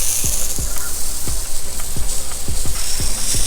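Rotor sprinkler heads of a home irrigation system spraying nearby at spring startup, a steady rhythmic ticking under a constant hiss of water.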